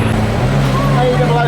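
A noisy car drives along a London street, giving a steady, close, low engine drone with a rumbling hum that holds evenly throughout.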